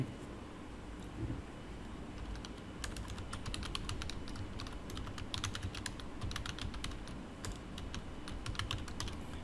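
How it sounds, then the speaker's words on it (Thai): Fingers tap out text on a computer keyboard, a quiet run of quick, uneven key clicks in bursts, heard close over a low steady room hum with no talking. "เราก็อาจจะพิมพ์เข้าไปนะครับ"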